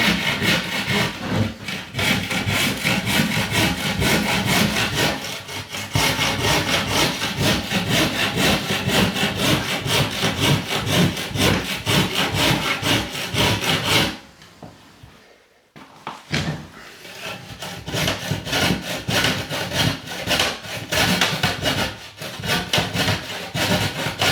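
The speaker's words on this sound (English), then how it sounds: "what I do is with the saw, just run across the back of it." A hand saw rasps back and forth across wood in fast, steady strokes, loud and close, jamming without a full stroke and pausing briefly before the rhythmic sawing resumes.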